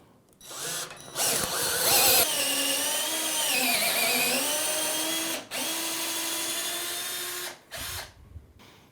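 A 12-volt cordless drill driver runs under heavy load with a steady whine that dips and strains, stops briefly, then spins up again before cutting off.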